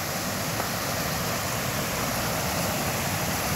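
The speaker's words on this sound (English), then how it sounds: "the sound you hear is this creek." A creek flows through woods beside a picnic area, a steady broadband rush of moving water, continuous and fairly loud with no voices.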